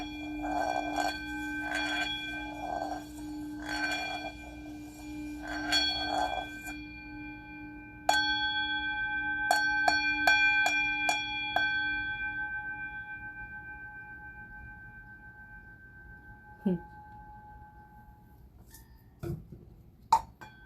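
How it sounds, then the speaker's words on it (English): A small bell rung several times to close a meditation session, each strike a clear ringing tone that decays slowly, followed by lighter chimes and fading resonance in a quiet room. "I'm going to do a little bell for us."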